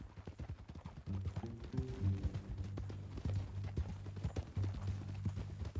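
Horse hooves clip-clopping at a steady walking rhythm in Red Dead Redemption 2, close and fairly quiet, with a low rumbling bed and brief background tones.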